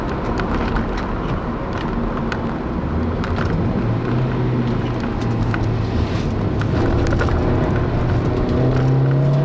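A 2012 Honda Fit Sport corners hard, its engine droning loudly under steady road and wind noise from inside the cabin, with rising tonal whine and faint tyre squeal toward the end; no talk.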